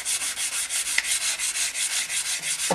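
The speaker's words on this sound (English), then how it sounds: "nobody likes dirty downpipes. And like I said, it's just a little bit of rubbing" Hand rubbing and cleaning of the exhaust downpipes on a BMW F 650 GS motorcycle, a steady, close, even rhythm of about six strokes per second that carries on alone throughout.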